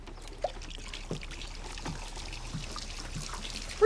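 Half a liter of Mountain Dew soda poured down a sink drain, a faint steady trickle and gurgle with a few small splashes and knocks, close and quiet.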